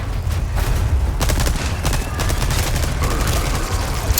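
Gunfire in the Resident Evil 4 Remake comes as a string of quick, loud shots over a heavy low rumble, with irregular sharp cracks spread throughout.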